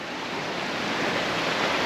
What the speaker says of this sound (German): Da ist auch so ein schöner Fluss, der wahrscheinlich von Offensee hier runterkommt.